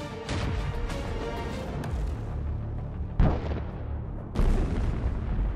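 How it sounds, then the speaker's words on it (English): A series of heavy, rumbling blasts, loud and close, with sharp booming onsets repeating over a continuous roar of debris and fire. "There is a very strong explosion, and the target is burned to the ground."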